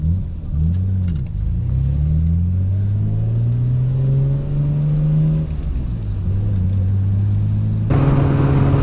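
Nissan Skyline R33 GTR V-Spec rolling slowly over speed bumps, a low engine drone rising and falling with revs, close and steady, with a brighter burst of engine noise at the end.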